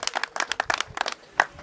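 Scattered hand claps rise from a wedding crowd, a brief uneven burst of applause lasting under two seconds with no voices.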